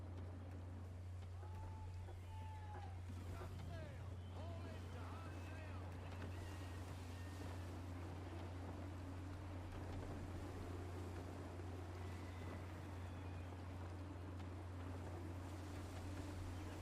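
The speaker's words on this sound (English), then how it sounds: "Gusty winds can be difficult to manage." Wind rushing steadily while sailing a ship in Assassin's Creed 3, a constant broad roar with a low engine-like drone, creaking rigging and voices talking over it.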